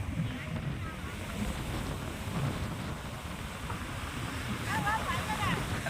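Ocean surf rolls in at Manapad beach as a continuous, soft, washing roar, with wind buffeting the microphone throughout.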